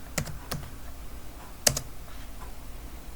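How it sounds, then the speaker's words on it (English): A few scattered keystrokes on a computer keyboard as a password is typed on a Linux Mint system, quiet and close, with one louder tap amid the soft clicks. "type in my password"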